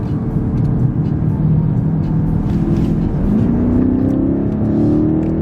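Continuous engine drone from inside a 2023 BMW X7 M60i SUV in sport mode, the pitch climbing as it accelerates through gears, a steady exhaust hum with no voices.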